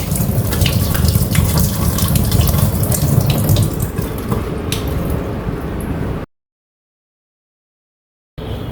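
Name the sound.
raw mangoes washed under running tap water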